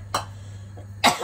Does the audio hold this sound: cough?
yes